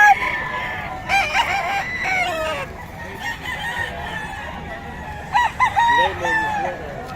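A Lemon Sweater gamecock crows close by, letting out several loud, ringing crows in bursts near the start and again toward the end, with clucking and a low background murmur between.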